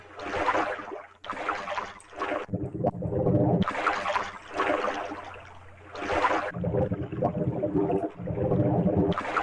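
Flowing sewer water in the horror game Afraid of Monsters, a loud, continuous watery rush that swells and dips in bursts over its full length, with no talk.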